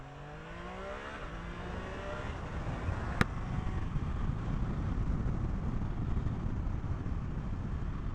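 A motorcycle rides through traffic while splitting lanes, with steady, loud engine and wind roar and rising gear whine early on, plus a brief sharp click partway through.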